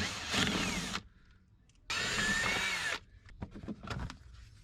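A cordless power driver spins Torx T25 screws during installation of a lithium battery isolator, giving two loud, sustained whirring bursts of about a second each, then a few short clicks and handling taps close by.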